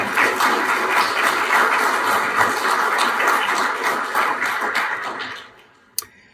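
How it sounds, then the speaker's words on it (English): Conference audience applauding its speakers, a dense, loud round of clapping from a large room that holds steady, then thins out and fades to near silence, with one sharp final clap near the end. "So another round of applause for our amazing speakers."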